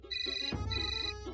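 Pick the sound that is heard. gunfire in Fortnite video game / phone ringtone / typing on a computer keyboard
phone ringtone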